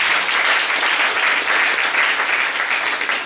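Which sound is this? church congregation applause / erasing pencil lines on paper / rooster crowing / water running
church congregation applause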